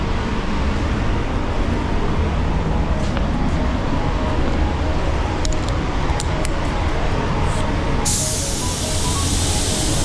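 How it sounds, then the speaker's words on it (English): Steady broadband hiss of a paint spray gun at 26 psi spraying Glasurit champagne silver car paint, running continuously, close and loud, with a sharper airy burst near the end. "I'm spraying it at 26 psi"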